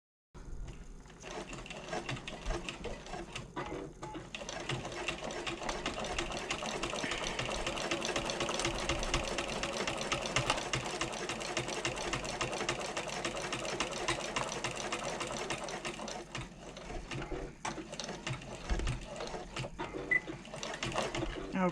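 A sewing machine runs continuously and close by, stitching the seam of a bag pocket with a steady, fast mechanical chatter for about twenty seconds.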